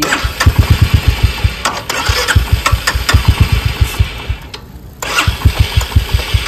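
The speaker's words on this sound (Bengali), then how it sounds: "বাইক একদম স্টার্ট নিচ্ছে না" A Royal Enfield Meteor 350 motorcycle's electric starter cranks repeatedly without the engine catching, rapid rhythmic chugging pulses in two bursts separated by a short pause, close and loud.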